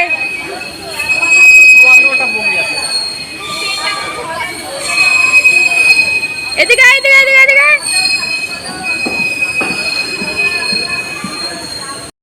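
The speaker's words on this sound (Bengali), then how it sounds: "রাস্তা থেকে ট্রেন আসবে" A train rolls in with loud metallic wheel squeals and screeching brakes, while people talk and call out nearby amid station bustle.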